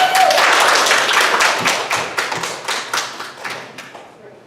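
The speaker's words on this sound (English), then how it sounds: "How about a hand of applause?" Audience applause at a school Battle of the Books final, with dense clapping up close that starts strong and then fades into scattered claps near the end.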